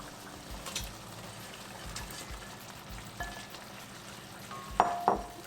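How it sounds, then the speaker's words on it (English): Fried gobi stirred into a thickened sauce in a pan, giving a soft, continuous sizzle with scraping stirs and a couple of louder clatters of the utensil near the end. "Now we'll add the fried gobi to it."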